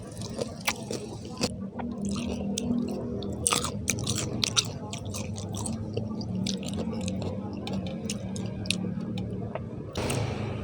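Close, wet chewing and crunching of spicy Thai papaya salad, som tam, with irregular bites and squishy mouth sounds throughout, plus a few soft murmurs.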